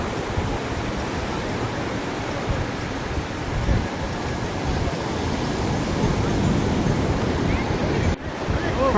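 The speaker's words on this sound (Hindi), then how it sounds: "समुद्र की लहरों की आवाज़ सुनो, कितनी तेज़ लहरें हैं" Strong sea waves crash and roll onto a beach at sunset, a loud, continuous surging roar close by with heavy wind buffeting the microphone throughout.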